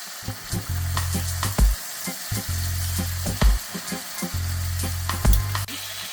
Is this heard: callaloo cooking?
yes